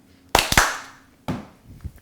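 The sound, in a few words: hands clapping while tossing and catching a flop ball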